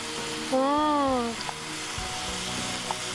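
Potatoes tossed and frying in a pan give a steady broadband sizzle, with a brief tonal scrape rising over it early on and a few soft knocks of a utensil later.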